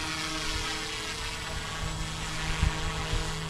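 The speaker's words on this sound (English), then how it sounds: "Helicopter is just holding." YU XIANG F08 1/34 scale Bell 206 RC helicopter hovering outdoors, a steady close whir of rotor and motor with a constant tonal hum and light wind buffeting, no voices.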